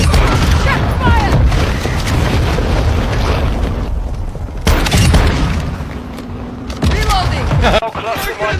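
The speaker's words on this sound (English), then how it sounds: "Got a strike inbound." Airstrike explosions in the game Call of Duty: Modern Warfare 2, loud heavy booms and rumbling blasts in bursts over several seconds, mixed with gunfire and game voices calling out.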